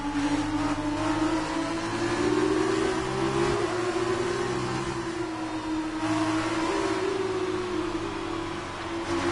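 Formula 1 cars racing at the Japanese Grand Prix in F1 2019, a continuous high-pitched engine whine that rises and falls gently as the cars hold speed, loud and steady throughout with no talking.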